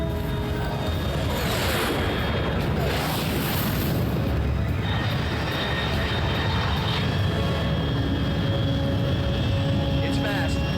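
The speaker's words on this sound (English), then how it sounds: "Control, unidentified aircraft detected." Fast unidentified aircraft at high altitude in Metal Gear Solid Delta: Snake Eater, a loud continuous roaring rush with booming low rumble that swells and holds throughout, with game radio voices over it.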